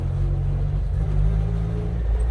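A car doing a burnout with its wheels spinning, heard as a steady, loud low engine rumble that holds for over two seconds, close by and without talk.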